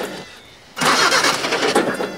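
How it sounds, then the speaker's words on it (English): A ute's engine cranks and catches after a brief quiet start, then runs loudly and steadily near at hand with no talk over it. "Right, Mark, start her up. What's wrong with the ute?"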